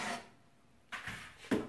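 Trays are pulled out of a deluxe air fryer oven, giving two short scraping, knocking sounds close by with a quiet pause between them.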